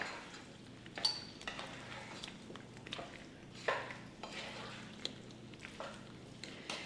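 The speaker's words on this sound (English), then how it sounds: "give that a really good coat to stir, everything in well" Potato salad is stirred in a bowl to coat it, giving quiet soft squishes and occasional utensil clinks against the dish in an irregular rhythm, faint and close with no talk.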